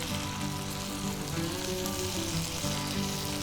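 A brown casserole mixture fries in a Lodge Cook-It-All over a campfire, giving a loud, close, steady sizzle with faint stirring scrapes throughout and no voices.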